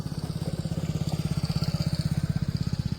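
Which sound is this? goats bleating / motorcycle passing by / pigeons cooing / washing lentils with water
motorcycle passing by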